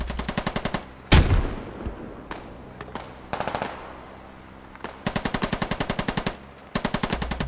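Gunfire from a shootout in the video game Arma, rapid automatic bursts and single sharp shots loud and close, with short pauses between volleys.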